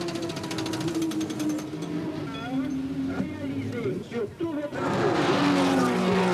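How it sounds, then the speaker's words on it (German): Race cars at the 1976 24 Hours of Le Mans, including the Martini Porsche rejoining the race, with engines whining past and a loud roaring pass near the end, under an announcer talking. "Endlich gehen beide Wagen wieder ins Rennen."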